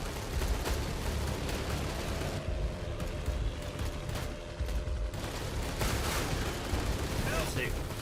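Soldiers fire guns in the undead RTS game Age of Undead, a steady wash of rattling gunfire and distant blasts that carries on without pause under a speaking voice.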